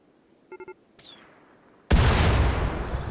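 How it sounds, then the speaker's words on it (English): A doomsday rocket launcher fires in the RimWorld video game. A few short electronic beeps and a rising whoosh come first, then a loud, sustained explosive roar bursts in and carries on to the end. "a doomsday rocket launcher of his own, which we are now using to hopefully take out a good chunk of our 32 enemies"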